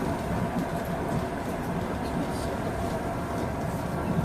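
A passenger train heading toward the sea rumbles steadily along the rails, heard from inside as a continuous dense roar with faint rhythmic rattling.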